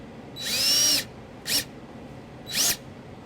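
A power tool drives a sheet metal screw through a ground wire eyelet into a drilled hole in an SUV body while a trailer wiring harness is installed, heard as three separate high whirring bursts: one long, one short, one medium.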